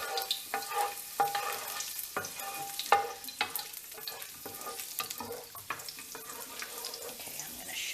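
Eggplant slices fry in a pan, giving a soft, continuous sizzle broken by frequent light clicks and scrapes of stirring or turning, close and fairly quiet.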